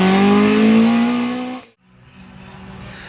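A Mark II Ford Escort hillclimb car at Gurston Down accelerates hard out of Ashes, its engine note loud and close, climbing steadily in pitch before cutting off abruptly and settling into a quieter, distant drone.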